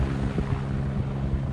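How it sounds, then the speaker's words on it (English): A rescue helicopter airlifts an injured snowmobile rider from a snowy crash site, its engine and rotor making a loud, continuous low throbbing drone with no voices. "the helicopter came and took Ray out"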